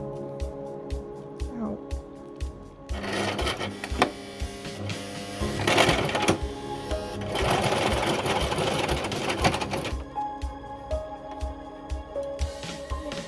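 Sewing machine stitching baby pants with straps, a steady rapid mechanical whir and needle clatter that speeds up and slows in stretches, with a voice talking now and then over it.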